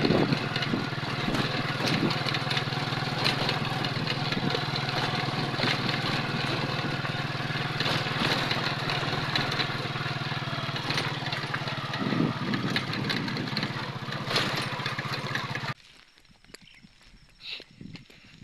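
A rotovator engine idles in a rice field with a constant low rumble for most of the clip, then cuts out abruptly near the end, leaving quiet.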